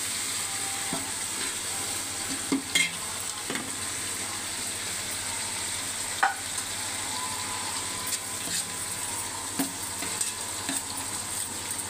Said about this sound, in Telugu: పుదీనా కొత్తిమీర వేసుకోవాలి. ఆ తర్వాత మిక్సింగ్ చేయాలి.